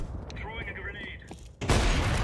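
Video game gunfire breaks out as a sudden loud burst of shots near the end, after a stretch of game sounds and a voice talking.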